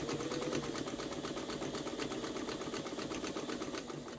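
A Pfaff 130 sewing machine stitches long stitches through a thick, multi-layered hem, a steady close, fast mechanical chatter and hum running continuously without a break.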